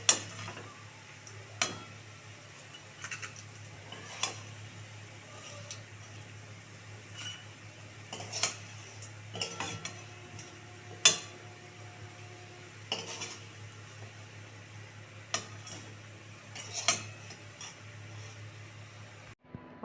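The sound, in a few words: frying cabbage pakoras, lifting them from the pan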